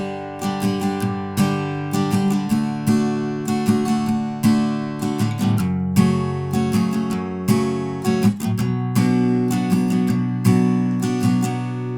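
Guitar strumming the chorus chords of a song, each chord held for two strumming patterns. The steady, ringing strums are close and alone, with no voice.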